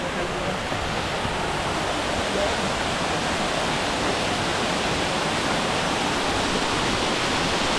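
A small waterfall on the Litalit trail gives off a continuous, broad rushing hiss of falling water, steady and fairly close, with no distinct breaks.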